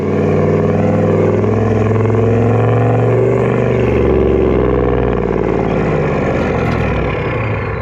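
A loud Toyota LandCruiser 78 Series engine revs and idles with a deep, throaty stainless exhaust rumble, close by and continuous, with no talking.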